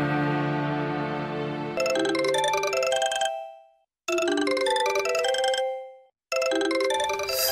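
A mobile phone ringtone plays a bright electronic melody in three bursts separated by short silent gaps, loud and close, with no talking.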